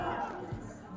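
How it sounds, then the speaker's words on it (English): A dense crowd at the Capitol tunnel shouts and pleads with police, with many voices overlapping in a continuous loud babble. "You can listen to the crowd pleading with the police"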